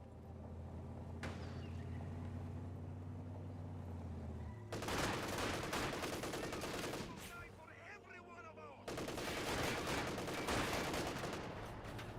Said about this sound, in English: MG42 providing some fire support.